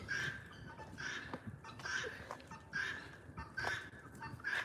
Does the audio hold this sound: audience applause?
no